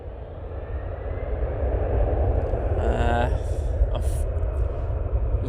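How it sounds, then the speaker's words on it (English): An EasyJet airliner departing for Athens gives a deep, rumbling engine roar that swells and holds steady over several seconds, with people talking nearby. "This EasyJet is off to Athens."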